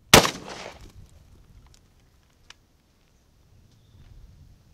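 A rubber bullet fired into a watermelon gives one loud, sharp crack at the start that trails off into a short decaying impact wash, then near silence with a faint small knock partway through.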